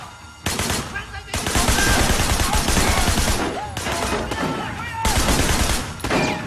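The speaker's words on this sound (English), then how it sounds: "Oh dear, they've got shotguns." Shotgun gunfire in a Sleeping Dogs shootout crackles in loud, dense bursts, with many rapid overlapping shots and brief pauses between volleys, while shouting voices sound through the chaos.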